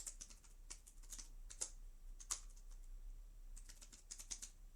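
Computer keyboard typing code, quick irregular bursts of clicking keystrokes with brief pauses, close and moderately quiet, no voices.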